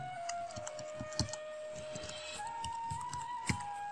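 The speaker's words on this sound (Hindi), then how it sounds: "यूजर आई डी टाइप करूँ देन पासवर्ड टाइप करूँ" Computer keyboard typing a user ID and password on a login screen, quiet irregular key clicks heard faintly over a steady tone and room background.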